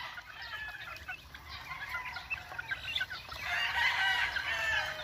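Gamefowl chicks on a game fowl farm, a busy chorus of high chirps and peeps that runs the whole time, dense and fairly close, swelling louder toward the end with no talking.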